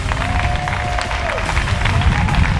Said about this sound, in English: let's give a big round of applause for our finalists